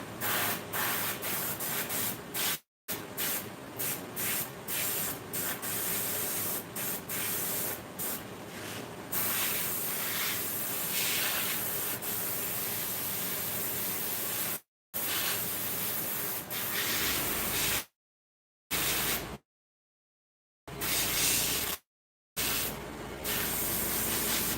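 An airbrush sprays in long continuous bursts while a sculpt is refined, the steady broadband hiss broken by a few short pauses and trailing off near the end.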